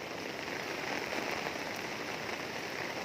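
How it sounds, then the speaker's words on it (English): Heavy rain pouring down in Singapore, a dense steady hiss of drops hitting surfaces, close and loud with no voices. "Raining."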